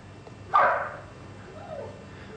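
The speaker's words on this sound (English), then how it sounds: "Hear the nuisance of a dog barking inside the house because he wants to come out?" A chocolate Labrador barks once, loud and sharp, from inside a house, followed by a softer whimpering sound against a quiet room background.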